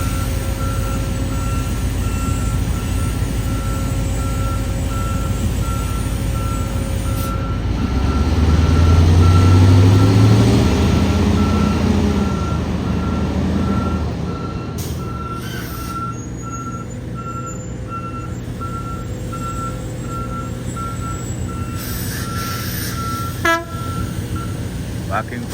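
An aircraft pushback tug reverses an ATR 42 on the apron, its steady repeating backup beeps sounding over a loud engine drone that swells midway, with airport noise around and no talk.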